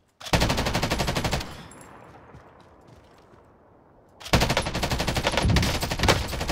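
Automatic gunfire in the video game Warzone: a loud, rapid burst of machine-gun fire, a lull with fading echo, then another sustained rapid burst, all close and without talk.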